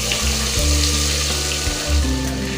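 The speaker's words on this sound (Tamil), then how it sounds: "அரைச்ச வெங்காயம் பூண்டு பேஸ்ட்டு சேர்த்துக்குவோம்." Ground onion and garlic paste frying in a pan with fenugreek and curry leaves for a village-style fish curry, giving a steady, close, loud sizzle with a watery hiss and no talking.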